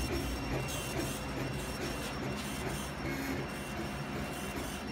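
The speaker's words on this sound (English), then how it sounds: "So that's 700 dots per inch, photorealism, etched into anodized aluminum." A laser engraver etches a photorealistic image into anodized aluminum at 700 dots per inch, giving a steady, unbroken mechanical whir and rattle that holds at an even level throughout.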